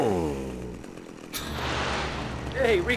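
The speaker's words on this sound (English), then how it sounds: "Just casually holding my giant chainsaw" A chainsaw in the game Vice City revs with a buzzing, harsh whine that rises and falls over a few seconds, mixed with other game sounds.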